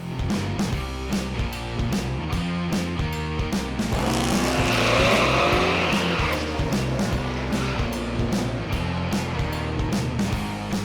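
A 4th-generation F-body Camaro fitted with a TCI bolt-together torque converter runs at Irwindale drag strip, its engine roaring loud and steady throughout, with a harsh tire-squeal swell in the middle.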